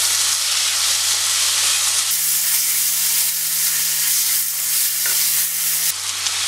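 Potatoes sautéing in a pan of oil for a Kerala prawn curry, a steady broadband sizzle with stirring that runs almost continuously, under a low steady hum.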